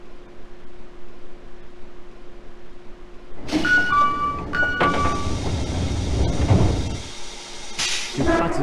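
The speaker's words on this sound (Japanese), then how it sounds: "快速越後湯沢行き発車いたします。" A video-game rapid train pulls away on the Hokuhoku Line after a low steady hum, with rising electric motor whine and rumbling, clattering wheels building close by.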